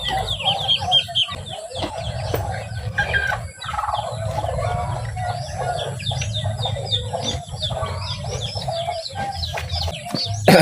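A hen clucks among newly hatched chicks, her low repeated clucks mixing with a busy stream of high peeping from the chicks, steady and close, with no talk.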